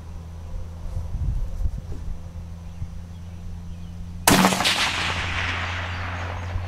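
A single 7mm or .308 Savage rifle shot fired outdoors at a small steel plate, a sharp loud crack about two-thirds of the way through, followed by a long rolling echo after a quiet stretch.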